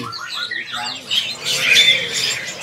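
Australian finches at a bird market squawk and chatter in shrill, overlapping bursts close to the microphone, with faint voices mixed in.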